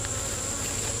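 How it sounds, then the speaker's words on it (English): Honey bees buzz densely around an opened hive during a honey super removal, a steady close droning hum with no break and no voices. "a lot of the bees came out"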